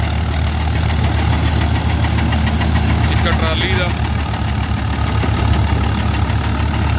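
A Swaraj 855 tractor engine rumbles and labours steadily throughout under full load powering a straw-chaff machine, loud and close, with someone talking over it.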